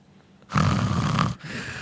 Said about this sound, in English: hey, snoring